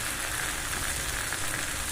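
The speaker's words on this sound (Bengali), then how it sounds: "এবার সামান্য জল দেবো মশলাটা যাতে ভালো করে কষে যায়।" Spice paste of ground ginger and masala sizzles steadily in a pan just after a splash of water goes in, a dense, even crackle and hiss with no voices, for a Bengali hilsa curry with potato, eggplant and taro.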